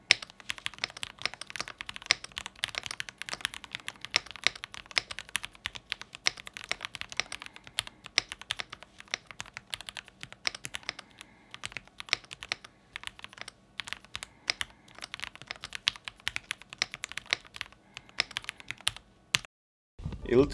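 Typing on a gasket-mounted keyboard with a plastic case, a dense run of quick, soft clacky keystrokes at an even pace, close and fairly quiet, with a short pause near the end and no talking.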